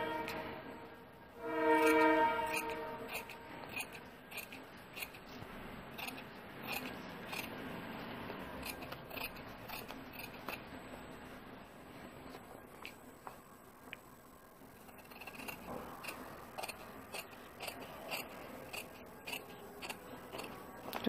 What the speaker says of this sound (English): Cut off this one.